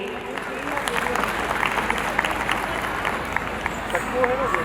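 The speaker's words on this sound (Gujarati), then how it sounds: "જોરદાર તાળીઓના ગડગડાટ સાથે આ બાળકોને આપણે વધાવી લઈએ" A school annual day audience applauds children before their stage performance, steady crowd clapping with scattered sharper claps while a voice talks over it.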